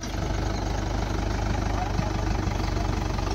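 A tractor engine runs steadily at night during sowing, a loud continuous low diesel rumble with a regular throb, close by throughout.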